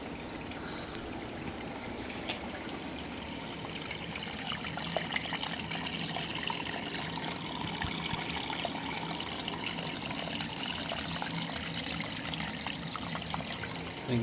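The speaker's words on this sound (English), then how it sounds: "I think we've got good water flow." Water trickles and flows steadily through a reptile enclosure, a soft continuous running sound that stays even and close throughout, with no talking.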